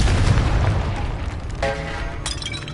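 A Confringo blasting spell explodes in Hogwarts Legacy, a deep rumbling boom followed by bright crackling, shattering bursts that ring out and fade.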